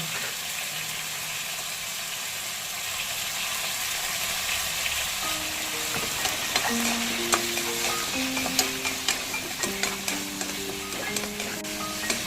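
Minced mutton seasoned with salt and turmeric cooks in a little oil, a steady close sizzle with rhythmic spatula scrapes and taps stirring it through the second half.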